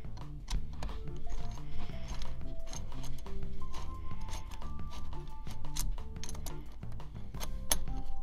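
Bolts are fitted and tightened into a rifle chassis monopod mount, giving close ratcheting clicks, small metallic clinks and mechanical rattles that run almost continuously over steady tones in the background.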